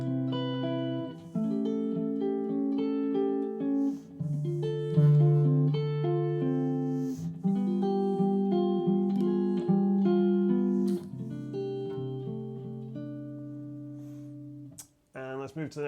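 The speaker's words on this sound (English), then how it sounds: "That's the green Weinbrock 4x10, which on clean sounds like this." Clean electric guitar played through a Kemper profiling amp into a green Weinbrock 4x10 cabinet, a sustained run of ringing chords and melodic notes with clear harmonics, steady and close, ending in a brief pause and a final strum.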